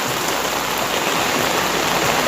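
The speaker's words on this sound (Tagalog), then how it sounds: "umuulan unti-unting kumakakas" Heavy rain pours down steadily during Typhoon Carina, a dense, continuous hiss and patter close by with no break, filling the whole moment without any voices.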